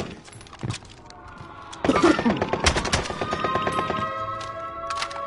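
Gunfire from the video game Warzone cracks in quick bursts, a couple of isolated shots followed by rapid repeated automatic fire with metallic clanks, close and fairly loud, with no talk over it.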